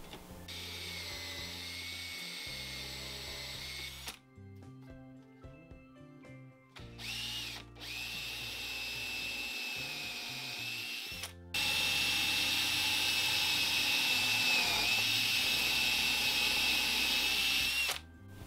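A power drill bores a 12 mm pilot hole freehand into wood, a close, high-pitched whine that starts, stops and restarts, ending in a louder sustained run.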